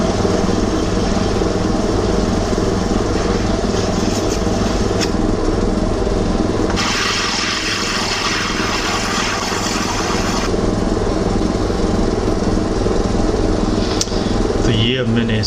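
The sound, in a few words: polishing the back side of a lapis lazuli gemstone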